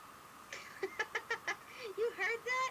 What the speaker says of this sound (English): that's a bird outside my window